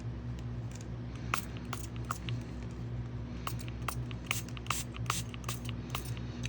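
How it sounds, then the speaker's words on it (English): A spray bottle mists water onto a book page dabbed with pink paint, giving a run of short, crisp spritzes over a steady low background hum. "then I'm going to spray it with water."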